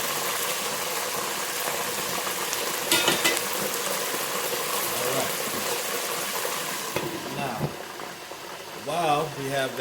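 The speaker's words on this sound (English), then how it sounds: "Now we're going to go ahead and put them in the grease." Chicken wings for lemon pepper wings sizzle and crackle steadily in hot grease, a loud continuous frying hiss, while someone talks over it.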